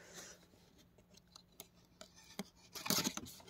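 Packaging on a newly unboxed freezer is cut and torn open: faint scattered scrapes and small snips, then a louder burst of tearing and crinkling near the end, close up with no talk.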